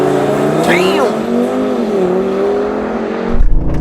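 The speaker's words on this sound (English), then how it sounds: "I jumped into the old RS3 and got ready for a drag race." An old and a new Audi RS3 launch side by side in a drag race, their engines revving hard and climbing through rising tones, loud and close, ending in a sharp roar; a voice talks over them.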